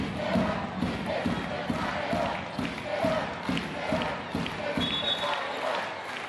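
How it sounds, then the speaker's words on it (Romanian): Handball supporters in an indoor arena at a CSM București versus Dunărea Brăila league match, chanting a player's name in a rhythmic, repeated pattern with steady pulsing beats, crowd noise continuous underneath. "Numele Cristinei Neagu pe buzele suporterilor din Polivalentă"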